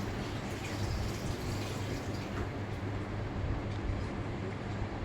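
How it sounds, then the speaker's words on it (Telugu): Waterfall in a forested park ringed by hills, a steady, dense rush of falling water that fills the whole clip at an even, constant level, with no voices. "చుట్టూ కొండలు, ఫారెస్ట్ ఏరియా మధ్యలో ఉంటుంది వాటర్ ఫాల్"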